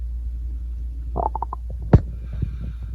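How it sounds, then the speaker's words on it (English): A hungry stomach growls once, a short cluster of gurgling rumbles followed by a deeper, louder churn, set against a quiet, steady low hum. "His stomach growled, being very,"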